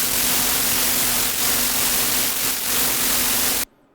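Synthesized electricity effect built from white noise run through foldback distortion with modulated drive, a dense crackling, buzzing hiss with slight surges that runs loud and continuous before cutting off abruptly.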